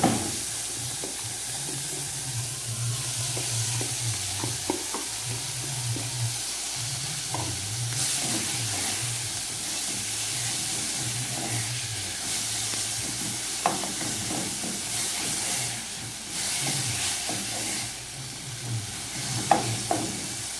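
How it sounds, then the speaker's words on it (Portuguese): Half a medium onion frying in a pan, a continuous sizzling hiss with repeated stirring scrapes and scattered light taps of a utensil, steady throughout without speech. "Eu não deixo a cebola fritar muito, pra mim já tá bom assim."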